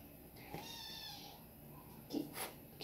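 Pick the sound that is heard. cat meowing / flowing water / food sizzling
cat meowing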